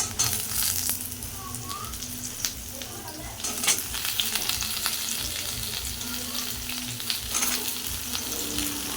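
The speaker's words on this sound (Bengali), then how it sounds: "এবার আমি ডাঁটাগুলো দিয়ে দেবো, সজনের ডাঁটা।" Moringa drumsticks and potatoes fry in oil with black cumin seeds in a pan, giving a steady close sizzle through the whole stretch with occasional scraping stirs and no talk.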